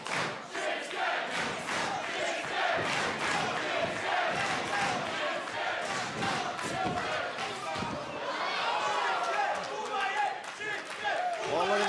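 A vocal wrestling crowd inside the NXT arena at Full Sail University during an NXT TakeOver event, with dense rhythmic chanting, shouts and cheers filling the space alongside occasional ring thuds.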